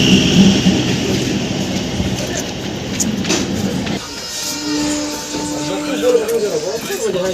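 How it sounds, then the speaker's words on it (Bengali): A train passing a level crossing near Asansol, heard from inside another train as a rumbling roar and rattle that drops partway through, with people talking over it. "কয়েকটা মেল ট্রেন ক্রসিং করবে, সেগুলোকে তোমাদেরকে দেখাবো।"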